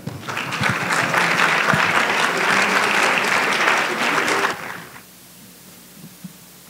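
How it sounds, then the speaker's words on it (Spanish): An audience at a university lecture breaks into loud, full applause to welcome the speaker, holding steady for about four seconds before stopping abruptly, leaving a quiet room with faint stray noises. "Recibámoslo con un fuerte aplauso."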